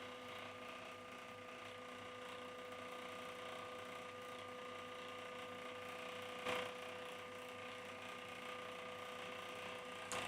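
The Z motor on a Sovol SV08 3D printer gives off a faint, steady mechanical rattle and whir, with a couple of brief sharper clicks breaking through.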